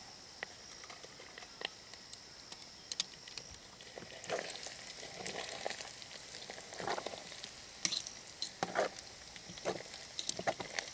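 Bacon fries outdoors in a bush pot over a campfire: a soft, steady sizzle with scattered crackles and pops that grow busier partway through, fairly quiet and close.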